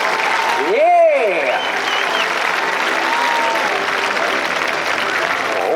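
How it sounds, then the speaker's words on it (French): Loud, sustained applause from a rodeo crowd at Equiblues in St Agrève, Ardèche, steady clapping throughout, with a brief vocal whoop near the start. "un tonnerre d'applaudissements pour Buffalo Bill"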